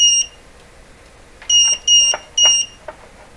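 A multimeter gives a high electronic beep once, then three short beeps in a quick series, crisp and close against a quiet background.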